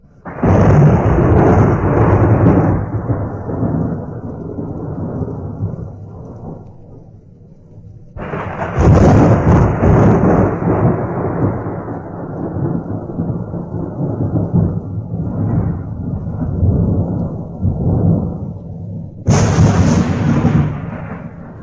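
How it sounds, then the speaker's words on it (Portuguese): Heavy summer rain pours steadily over a forest while loud rumbling thunder rolls in and out in long bursts, with a sharp crack near the end. "Súbito, violenta chuva de verão se abate sobre a floresta."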